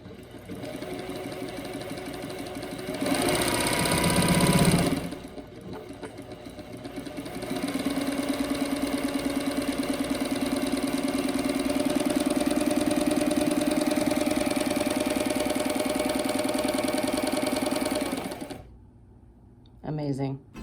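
Pfaff 262 sewing machine running smoothly after oiling, with a steady mechanical whir in sustained runs, one short burst followed by a long even stretch before it stops, close and clear.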